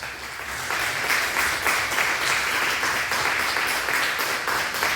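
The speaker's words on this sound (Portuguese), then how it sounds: "vamos aplaudir a Jesus." A church congregation applauds together after a call to praise, steady dense clapping filling the room at even loudness throughout.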